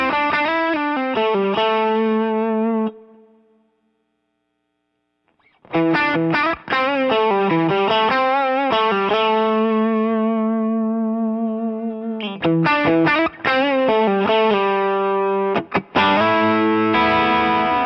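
An electric guitar played through a Cornerstone Antique V3 overdrive pedal with its comp switch engaged gives driven, sustained chords and note runs. A roughly three-second silent gap breaks the playing, which then resumes with picked phrases.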